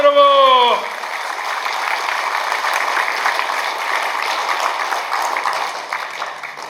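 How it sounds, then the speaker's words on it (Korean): Audience applause at a party official's inauguration ceremony, a steady broadband clatter of many hands that fills the room after a brief musical tone and carries on to the end. "힘찬 응원의 박수 부탁드립니다"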